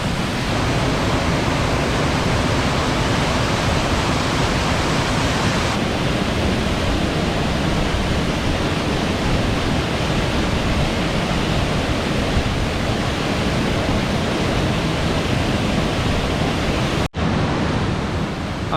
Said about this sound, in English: So up here you can see where the water just falls off the edge.